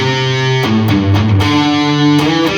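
At full tempo, an electric guitar with distortion runs through a song's intro line, with loud, close, continuous chord hits and quick note changes and no voices.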